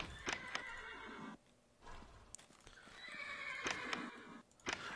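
Horses in the Minecraft Mo'Creatures mod let out loud neighs and whinnies, backed by clip-clopping hooves. Two bursts of sound are split by a quieter gap, with sharp hoof clicks throughout.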